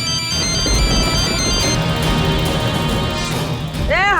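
A phone ringtone plays loudly in a domestic scene, an electronic melody of repeated tones over a noisy, crashing background.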